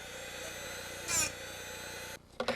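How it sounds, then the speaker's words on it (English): A Drill Doctor sharpening wheel grinds a chucked drill bit, a steady whirring grind holding for about two seconds with a brief rise in the middle, then cutting off into a couple of short scrapes. "The drill bit is ground by the sharpening wheel each time you turn the chuck."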